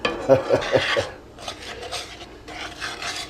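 Flour is stirred into cookie dough in an iron skillet, giving scraping, rubbing strokes with a few sharp metallic clinks at first, then softer, uneven rasping sweeps at close range.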